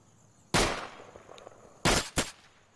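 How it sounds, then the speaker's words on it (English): Gunfire in the tactical shooter game Insurgency: one loud sharp shot, then after a pause a quick pair of shots, each cracking out over a quiet background with no talking. "there seems to be a lot of fire going on down there"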